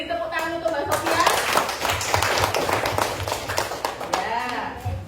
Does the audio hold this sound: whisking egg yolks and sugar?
no